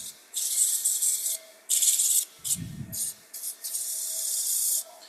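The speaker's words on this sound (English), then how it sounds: "I also want to sand the bottom of the branches only" Sandpaper of 180 grit rubbed by hand along the underside of the branches of a turned and carved wooden Christmas tree, loud raspy strokes in an uneven back-and-forth rhythm with a brief low thump partway through.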